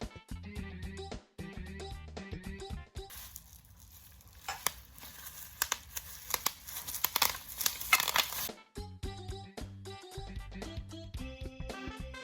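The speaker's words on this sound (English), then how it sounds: "Now we're going to unwrap these legs and put them onto the base." Plastic wrapping crinkles and tears as animatronic leg pieces are unwrapped, a close burst of rustling and crackling set between stretches of background music.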